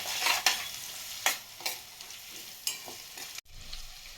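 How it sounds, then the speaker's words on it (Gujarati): Capsicum and carrot sauté in a pan over a medium gas flame, giving a quiet, low sizzle. It is punctuated by several sharp spatula scrapes and stirs at irregular intervals, with no voices. "પેપ્સિકમ મરચું ને ગાજર એડ કરી દઈશું આને બી ધીરે ધીરે મીડિયમ ગેસ ઉપર શેકી લઈશું"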